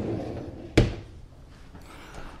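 A kitchen drawer in a mobile home is opened or shut with a single sharp, close knock, followed by faint rustling and a softer slide near the end.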